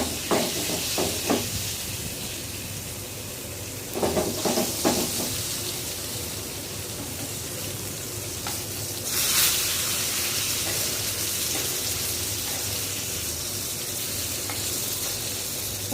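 Hilsa fish pieces frying crisp in a pan, a continuous close sizzle and hiss with a few clattering knocks of turning and a brief louder spatter midway, no voices.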